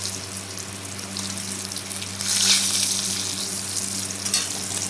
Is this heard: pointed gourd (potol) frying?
yes